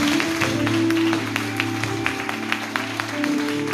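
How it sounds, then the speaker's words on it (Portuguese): A church congregation at an in-person worship service claps in a steady, sustained burst of applause, the sharp claps ringing over a held keyboard chord. "Quem aplauda o nome de Jesus, bem forte."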